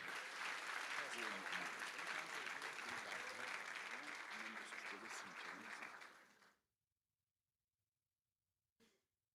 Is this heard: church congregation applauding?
yes